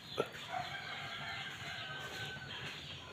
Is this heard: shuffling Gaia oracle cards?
no